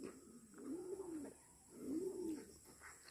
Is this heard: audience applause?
no